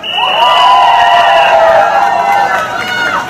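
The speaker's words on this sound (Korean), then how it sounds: "도의원 후보에게 힘 박수 부탁드립니다." A crowd cheers at an outdoor campaign rally in a five-day market, with loud sustained shouting and whooping voices close by, building and holding for several seconds.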